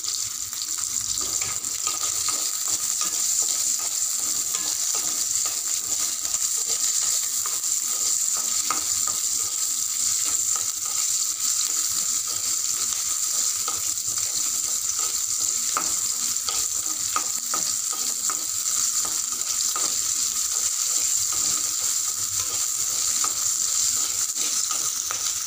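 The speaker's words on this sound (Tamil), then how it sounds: "நல்லா இந்த ப்ரௌன் நேரம் வர வரைக்கும் வறுத்துக்கோங்க." A garlic chutney mixture fries in a pan with a continuous bright sizzle, punctuated by frequent scrapes and taps of stirring, close and steady for the whole stretch with no voices.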